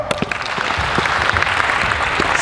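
A small group claps steadily and close by at a courtside basketball drill, a dense patter of hand claps with a few faint voices underneath.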